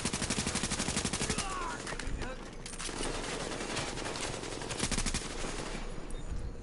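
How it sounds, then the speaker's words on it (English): Sustained rapid machine gun fire in the shooter The Division, loud, close and rhythmic for the first seconds, then continuing as a busier mix of gunfire and noise. "Ah, fucking machine gun, man."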